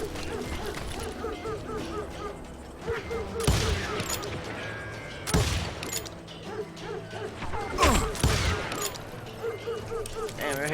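Gunfire crackles in a western shootout in the video game Call of Juarez, several loud sharp bursts breaking out at irregular intervals over a busy mix of game voices and ambient noise.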